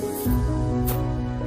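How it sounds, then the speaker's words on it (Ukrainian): A can of dry shower spray hisses in a short burst, a close breathy spray sound over a low steady background hum. "Сухий душ."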